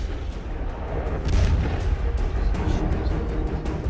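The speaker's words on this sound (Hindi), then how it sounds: "ऑयल डिपो में विस्फोट से पहले मिसाइल की जोरदार आवाज सुनाई दी।" Missile strike and oil depot explosion in wartime Ukraine, heard as a heavy, continuous low rumbling roar with repeated dull booms and bursts, loud and sustained throughout with no voices.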